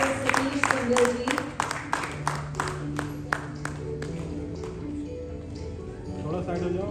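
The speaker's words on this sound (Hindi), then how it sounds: "तालियां बजती रहनी चाहिए दोस्तों, जोरदार तालियां" At an excellence awards ceremony, a crowd claps loudly in a brisk, even rhythm over background music and a voice, and the beat thins and fades toward the end.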